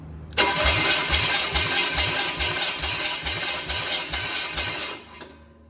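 A crate V8 engine cranks over on a jump box for a compression test, a steady rhythmic chug of starter turns lasting about five seconds, loud and close, then stopping.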